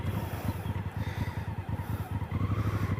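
A motorcycle idles and pulses at low speed through a tight U-turn under clutch control, its engine putting out a steady, close rumble with rhythmic throttle and clutch modulation.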